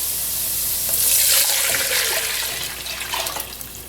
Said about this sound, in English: so we're going to add the water.